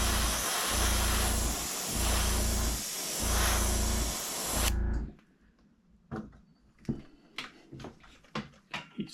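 Paint spraying onto a craw-style fishing lure: a loud, steady airbrush-like hiss in pulsed bursts for about five seconds, then it stops, leaving quiet handling clicks and knocks.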